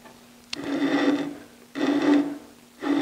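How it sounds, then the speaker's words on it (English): A woodturning tool on a lathe makes a leveling cut, held almost perpendicular to the work with the flute nearly closed, giving three close, rasping scraping strokes, each about a second long, over a faint steady hum. "I can get a nice leveling cut if I hold that tool almost perpendicular to the work and with the flute just about closed."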